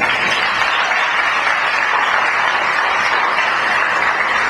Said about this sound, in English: So I request that we all give these modern-day heroes a warm round of applause.